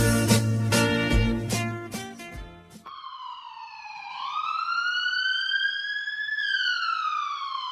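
A wailing ambulance siren rises and falls in long sweeping tones, loud and close, following a short burst of musical tones at the start.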